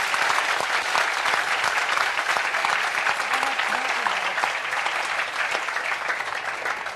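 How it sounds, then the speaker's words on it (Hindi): Audience applause at a classroom lecture, a sustained, moderately loud crowd of clapping hands that runs continuously and tapers slightly toward the end, with no voices over it. "तो इन दोनों के लिए भी जोरदार तालियां बजाओ"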